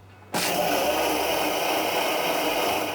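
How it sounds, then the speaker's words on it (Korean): After a brief moment of quiet, a blender roars to life and grinds raw perilla seeds and soaked glutinous rice steadily at high speed with a gritty, whirring drone. "뚜껑 닫고 갈아보겠습니다."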